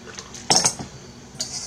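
Bigger peppers dropped into a Magic Bullet blender cup, landing as a short cluster of clattering knocks in the middle, followed by a faint later clink.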